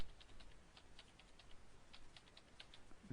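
Typing on a computer keyboard, a steady run of light, quick key clicks at close range with no talk.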